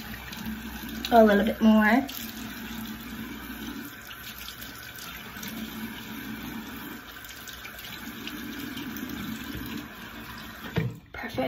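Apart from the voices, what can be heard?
water running from a tap while rinsing face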